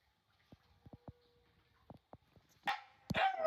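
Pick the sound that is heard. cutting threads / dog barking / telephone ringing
dog barking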